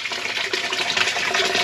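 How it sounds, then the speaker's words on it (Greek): Water rushing steadily into a container being filled to keep a freshly caught fish alive on a fishing trip, a continuous close splashing pour with no pauses. "Επειδή δεν έχω πάγο μαζί μου, γεμίζω με νερό εδώ το δοχείο."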